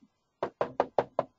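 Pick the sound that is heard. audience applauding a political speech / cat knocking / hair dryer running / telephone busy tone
cat knocking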